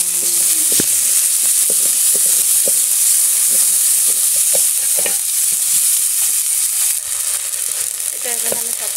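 Boiled jackfruit fries in oil in a pan, a loud, dense, constant sizzle with a bright hiss, punctuated by faint scattered clicks of stirring.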